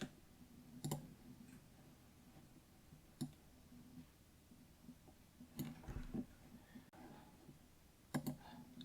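Computer mouse clicks, sparse sharp ticks spaced a second or two apart over a quiet background, close and crisp, with no talking.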